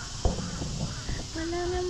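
A crow at a wildlife park caws several times, fairly near and clear, with a later drawn-out call and quiet voices talking in the background.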